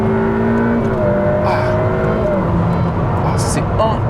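A Ferrari F8 Spider at full throttle, its engine a loud, sustained roar with shifting harmonic tones and steady road rumble, while a person speaks over it.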